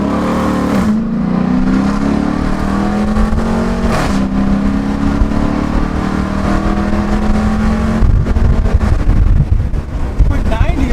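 Car with a Hemi engine and an Airaid cold air intake revving and accelerating on the road, a deep engine drone rising and falling under wind noise, ending with rougher crackling pops, recorded from inside the car.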